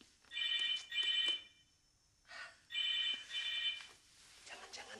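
A telephone rings in an indoor comedy sketch setting, four clear electronic trilling bursts in two pairs with short pauses between them, fairly close and distinct.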